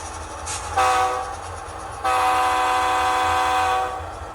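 A Kato P42 Amtrak HO scale model locomotive with a DCC sound decoder sounds its horn in two blasts, a short one and then a longer sustained chord, clear and close.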